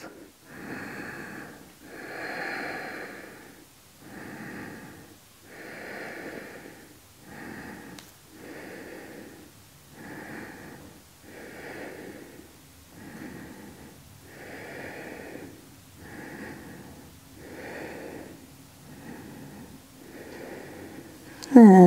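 Slow, steady breathing during a yoga twist, about a dozen even breath cycles in a regular rhythm, close and moderately soft, ending in a brief sharp knock.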